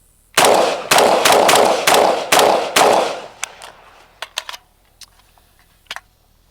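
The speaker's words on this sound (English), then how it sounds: "for a bone stock rifle with just an A2 flash hider, these things are a dream to shoot" An M16A2 rifle with a bone-stock A2 flash hider fires five loud, evenly spaced shots in steady rhythm, each with a sharp crack and short decay, followed by a few quieter clicks and metallic taps.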